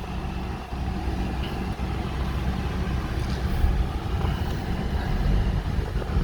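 A U-Haul gentle-ride van drives along, heard from inside the cab as a steady low engine and road rumble that swells slightly, with a few faint rattles and no talking.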